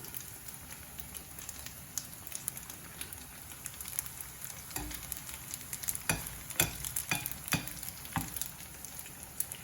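Tofu pieces fry in hot oil to a crisp, with a steady dense sizzle and crackle and scattered sharper pops and stirring clicks, close and continuous throughout.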